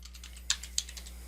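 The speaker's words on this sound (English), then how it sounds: "So I'm typing in track." Typing on a computer keyboard, a quick run of light, close key clicks with two sharper taps standing out over a faint electrical hum.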